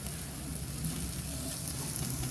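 Spiced meat sizzling on a barbecue while being turned, a dense, steady crackling hiss, close but fairly quiet, with no voices.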